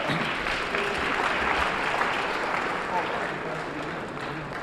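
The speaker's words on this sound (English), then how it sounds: "Give a round of applause." Dense applause fills a public debate event in Harlem as a congregation-like crowd claps steadily, with voices talking and calling out underneath the clapping.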